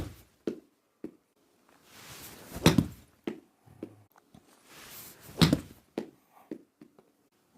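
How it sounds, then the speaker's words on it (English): Used Titleist Pro V1 golf balls struck on 50-yard wedge shots outdoors, two sharp clicks of club on ball about three seconds apart, each after a short swish, with soft scattered thuds around them. "So I'm going to start with some 50-yard shots. And I'm going to start with the used golf ball."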